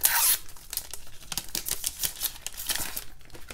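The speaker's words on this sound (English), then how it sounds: "that paper's really loud" Paper sheets rustle, crinkle and tear in loud, close bursts while planner accessories from a winter release are handled, with no voices heard.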